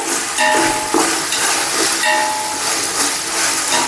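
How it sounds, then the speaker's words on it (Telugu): Onions and spices frying in hot oil for a village-style chicken biryani, a loud, steady crackling hiss with occasional sharper pops and faint metallic clinks throughout. "ఇప్పుడు ఇది ఆనియన్ మసాలా దినుసులు అంత మంచిగా ఫ్రై అవుతే అంత బాగుంటుందండి టేస్ట్."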